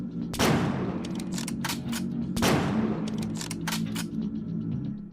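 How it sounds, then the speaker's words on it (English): Sniper rifle fire in the shooter You Are Empty: two loud, sharp cracks spaced about two seconds apart, each followed by a burst of quicker clicking and mechanical rattles over a steady low hum. "most certainly a sniper rifle"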